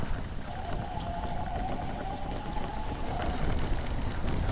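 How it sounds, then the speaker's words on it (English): A faint scraping whine from an e-bike brake rotor rubbing while riding, a thin sustained tone for a few seconds over constant rumbling wind and road noise, with no talking. "Brake rotor is still scraping"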